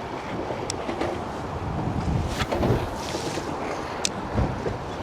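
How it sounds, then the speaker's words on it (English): Steady wind blows across open water near bridge pilings while fishing for stripers, a broad rushing noise with gusty swells and a few faint clicks. "Same wind."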